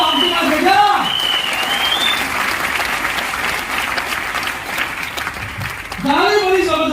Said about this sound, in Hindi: जोर से ताली बजाओ, आपके पास है क्या?